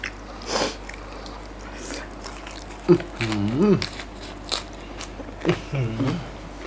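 Crisp bites and crunchy chewing of sweet-and-sour food, close and fairly loud, in short bursts with brief talking and murmured sounds in between.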